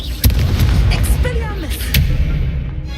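Spell effects in the video game Hogwarts Legacy fire off in quick succession, a string of booming blasts and sharp bursts with whooshing tails, loud and close, with a voice speaking over them.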